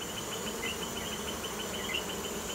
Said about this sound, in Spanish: la colmena donde yo saco todas las abejas